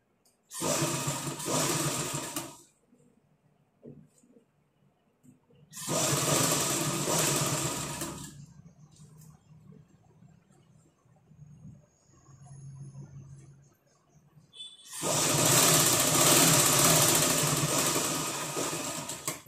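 A sewing machine stitches piping onto a blouse around a curved edge, running in three loud, steady mechanical bursts separated by quiet pauses.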